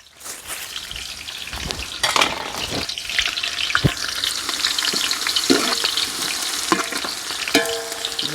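Long-sliced onions and a bay leaf fry in hot oil for mutton dum biryani, a loud close sizzle broken by repeated scrapes and clacks of a spoon stirring the pan.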